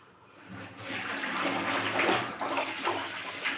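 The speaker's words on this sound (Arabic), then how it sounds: "نغسل في المواعي" Dishes are washed under a running tap, with a steady gush of water splashing close by and a few brief clinks, alone without talk.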